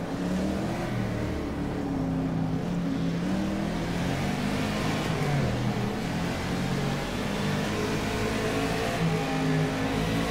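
A 1965 Howston G6 race car in the rFactor 2 racing game holds a steady, droning engine note with layered harmonics throughout. The pitch shifts only slightly and nothing else is heard.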